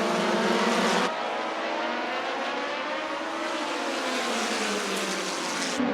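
Midget race cars roar around the OWS Las Vegas track in a constant, high-pitched engine drone. Pitches rise and fall as the cars pass, the sound is loud and close, and there is no commentary over it.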